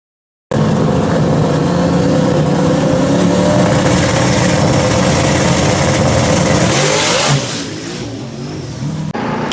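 A race car roars at full throttle during a drag pass at the Fall Brawl on a cold track. The engine note is loud, steady and sustained, then drops away and fades after about seven seconds, with no voices.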